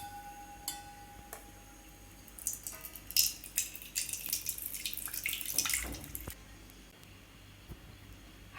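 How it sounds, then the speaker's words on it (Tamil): Water poured into ground amla and mint paste while making juice for straining makes a splashing, trickling pour that builds for a few seconds after a quiet start, then tapers off. "இதில் ஒரு 1/2 டம்ளர் அளவு தண்ணி விட்டுக்கோங்க. தண்ணி விட்டு இதை வடிகட்டிக்கலாம்."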